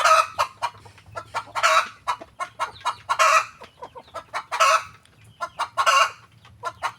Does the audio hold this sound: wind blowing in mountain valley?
no